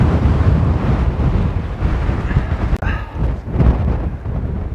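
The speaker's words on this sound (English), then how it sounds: "Just going to contemplate the wind for a bit." Strong wind buffeting the microphone on an exposed coast path between Landguard Fort and Bawdsey Ferry, a loud, continuous roar with gusty surges and a sharp knock midway.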